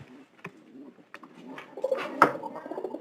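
Domestic pigeons kept in a loft with their squabs, cooing in soft low repeated calls that build toward the end, close by and alone with no talk over them.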